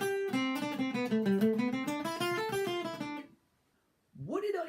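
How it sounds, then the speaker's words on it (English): Guitar played with alternate picking, a quick, even run of picked single notes that stops, followed by a short pause and then a brief return of notes, heard alone without talk. "I was alternate picking."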